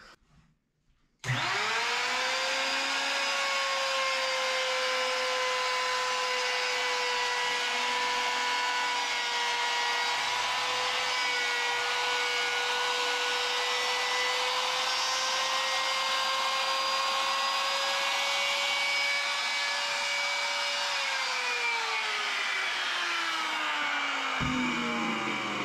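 Power tool routing a truss rod slot into a wooden bass guitar neck during a 34-inch to 30-inch scale conversion, a loud, steady high whine that spins up after a brief pause, holds, then winds down, no voices.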